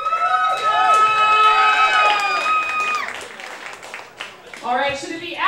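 A crowd applauding and cheering loudly, shouts and claps blending, then fading briefly before a voice rises again over the noise.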